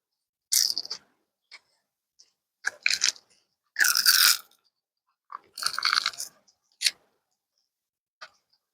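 Crisp crackles and crunchy snaps as cured resin pieces pop free of a flexible silicone mold, arriving in short separate bursts with quiet gaps between, close and fairly loud with no talking.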